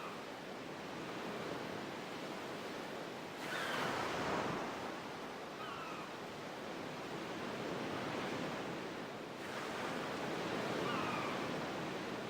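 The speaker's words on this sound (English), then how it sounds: "Waking up in the ocean." Ocean surf rolls in the Final Fantasy X HD Remaster opening, a steady broad wash of water with two louder swelling waves breaking a few seconds apart, alone and moderately loud.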